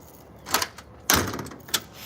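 Doors are opened on a cold night outdoors, giving several sharp clunks and sliding knocks, with quiet gaps between them and no talking.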